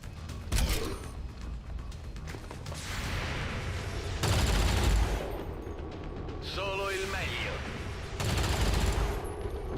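Bursts of gunfire from a squad firing on a Riot Lancer in the turn-based strategy game XCOM 2, with several loud volleys spaced through the stretch over a busy background of game sounds.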